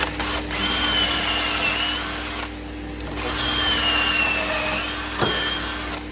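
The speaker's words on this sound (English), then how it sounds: "So there's your pocket hole drilled." A power drill with a pocket hole bit and depth stop whines steadily through wood, easing off briefly midway before spinning up again, close and loud with no talking.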